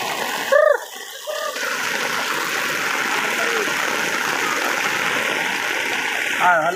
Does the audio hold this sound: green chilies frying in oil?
no